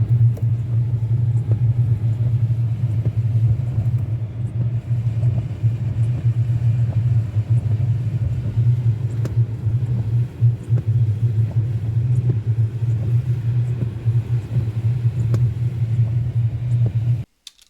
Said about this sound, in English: very, very noisy sounds that came from the suspension, even at the slowest of speeds